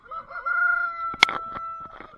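On a small hobby farm, a rooster gives a close, loud crow, followed by a few short clucks and chicken calls, with no talk.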